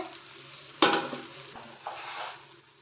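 A spoon scrapes and clatters as bread pieces are stirred into spiced masala with Kashmiri chilli, pepper and salt in a pan, one sharp metallic hit followed by soft sizzling and a second scraping stir, close and fairly quiet.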